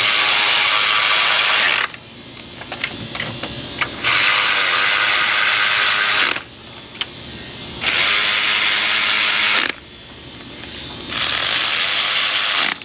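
Wrench tightening bolts on a Toyota 2GR-FE 3.5L V6 engine during a top-end teardown, with four loud, close whirring bursts of a couple of seconds each, separated by short quieter pauses with faint clicks.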